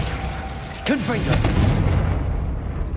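A single explosive Confringo spell goes off in Hogwarts Legacy, a sharp blast followed by swirling magical whooshes that trail off, over a steady game ambience.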